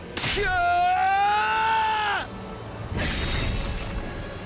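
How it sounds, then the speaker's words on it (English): A scream from the video game The Hundred Line: Last Defense Academy: one loud, drawn-out anguished cry holding for about two seconds, then a crashing, noisy burst of impact sound. "I felt a white-hot pain and heard a scream."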